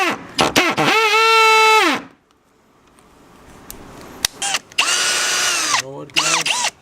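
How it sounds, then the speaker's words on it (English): A power drill whines loudly for about two seconds during an air conditioner installation, falls quiet, then revs again in shorter bursts near the end. "I just broke my fucking drill."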